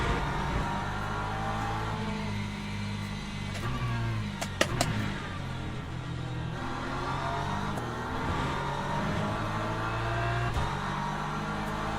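A Porsche race car engine in the racing game Le Mans Ultimate during a multiclass race, a steady droning roar with shifting pitch as the car accelerates, and a few sharp clicks partway through.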